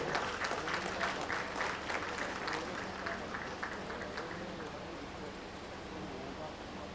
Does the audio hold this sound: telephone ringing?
no